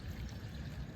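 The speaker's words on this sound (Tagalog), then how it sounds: "maglalagay naman po tayo ng distilled water dito sa ating radiator" Distilled water pours steadily into the radiator of a small-body Toyota AE92, a soft, faint, continuous splashing rush.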